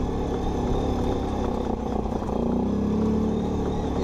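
A Chinese ATV four-wheeler engine drones steadily on a slow ride, a close, continuous low rumble with slight rises in pitch as the throttle shifts, no talking over it.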